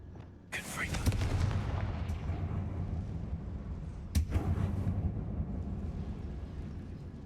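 In the video game Hogwarts Legacy, a Confringo fire spell goes off with a sharp whooshing blast, followed by rumbling, crackling fiery noise and a second sharp impact around midway, over a steady low game backdrop.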